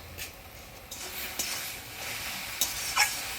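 Mixed leafy greens (saag) seasoned with salt, turmeric and green chillies frying in a pan: a soft, continuous sizzle with occasional stirring scrapes and a few brighter crackles, close and steady.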